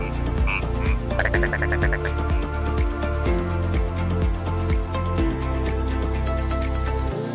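Frogs croaking steadily and loudly for several seconds, with dense overlapping calls and a few faint dripping water sounds in the mix.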